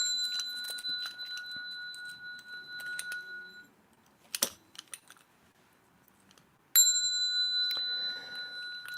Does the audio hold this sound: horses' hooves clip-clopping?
no